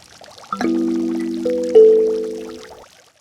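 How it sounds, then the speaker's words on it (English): Three plucked kalimba notes ring out in quick succession and decay slowly, with the steady splash of a nearby water fountain running softly underneath. "Listen to this clip of a kalimba performance played next to a water fountain."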